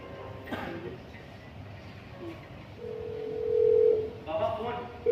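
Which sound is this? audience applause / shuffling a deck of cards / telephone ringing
telephone ringing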